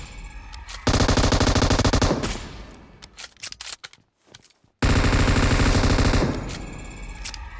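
Automatic rifle fire in the mobile shooter PUBG Mobile comes in two loud, rapid sustained bursts separated by scattered single shots and short pauses.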